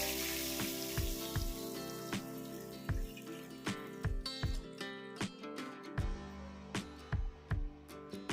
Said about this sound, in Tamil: எண்ணெயில் நல்லா பொரிஞ்சிருக்குங்க